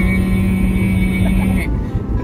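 A Toyota Prius hybrid engine revs to about 4,000 RPM and holds a steady, droning pitch up close, then cuts off abruptly, leaving quieter road and background noise.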